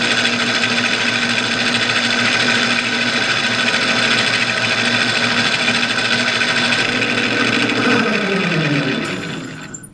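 A metal lathe takes a cut, giving a loud, continuous whirring drone with a steady mechanical hum that winds down in pitch as the machine slows and stops near the end.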